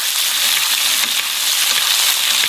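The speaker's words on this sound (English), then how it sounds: "I'm just going to baste this with a bit of butter" Steak fries in a hot pan while being basted with butter, making a loud, dense, continuous sizzle that holds steady throughout, close and with no voices.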